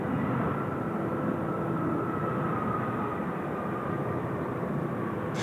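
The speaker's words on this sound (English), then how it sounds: "China Southern A320 of the Neo variety arriving from Guangzhou" A China Southern Airbus A320neo arriving from Guangzhou, a steady distant jet roar with a low rumbling hum that stays even and constant throughout, with no voices.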